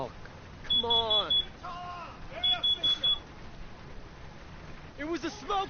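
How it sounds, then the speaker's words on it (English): A smoke detector gives a few short, high, piercing beeps in bursts, standing out over voices talking loudly throughout. "It was a smoke detector."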